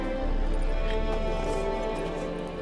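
Horse hooves clip-clop in the video game The Witcher 3, a soft, steady trot set against low ambient game sound.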